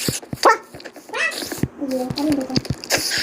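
A dog in the Minecraft video game lets out several short, sharp barks and yips in quick succession, overlapping excited voices of players talking.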